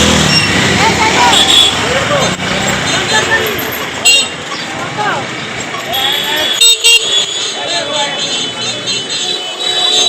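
A road jammed with traffic, with repeated car and auto horns tooting at close range over engine noise. The horns overlap and come in short bursts, and people talk nearby throughout.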